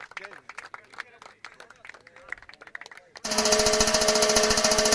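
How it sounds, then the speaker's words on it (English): Audience applause at a cricket league prize ceremony, dense clapping bursting in loudly after a few seconds of talk and lasting to the end. "Round of applause to team Mumra Royals."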